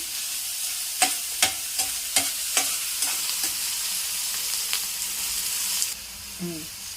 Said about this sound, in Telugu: చిచ్చిటా అన్నప్పుడు ఆనియన్స్ వేసుకుంటున్నాను